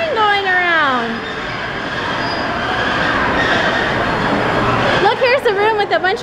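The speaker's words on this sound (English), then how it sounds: "there's a train going around" A miniature train running around inside a city museum, heard as a steady rolling rumble and rattle with a high squeal at the start, while a voice chatters over it and talk resumes near the end.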